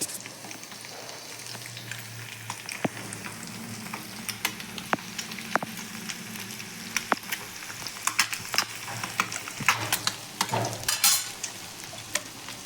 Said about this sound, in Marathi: मी ही सगळे अंडे टाकलेले आहेत.